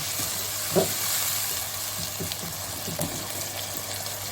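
Tomatoes fry in a pan as the masala base for zucchini and mutton mince, with a close, continuous sizzle and a few soft stirring knocks. No one speaks.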